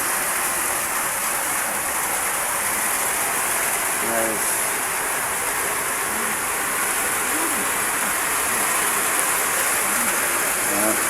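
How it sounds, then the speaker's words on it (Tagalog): Heavy rain pours down steadily in a constant loud hiss, with a few faint, brief voices or calls breaking through the downpour. "Malakas na ulan oh."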